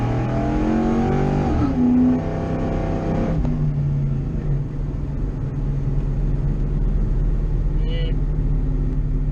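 A 2V Ford Mustang engine runs steadily after a tune change to 24-pound fuel injectors, a continuous low drone heard from inside the car, with a brief rise in pitch near the start.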